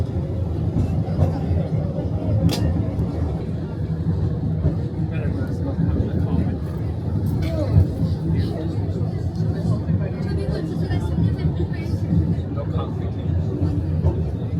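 On the Snowdon Mountain Railway in Wales, a train's low, steady rumble and clatter carries on throughout, with passengers chattering and talking over it the whole time.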